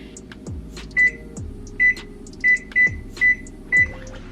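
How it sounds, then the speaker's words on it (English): A kitchen oven's control panel beeps while it is set to preheat: six short, clear, mid-pitched beeps in an uneven rhythm, with soft low knocks between them as buttons are pressed. Nearby, no talking. "So I'm gonna go ahead and preheat the oven"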